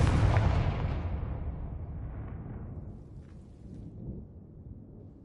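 Confringo blasting spell explosion in Hogwarts Legacy, a loud booming burst that rolls into a long rumbling decay fading over several seconds, with no voices.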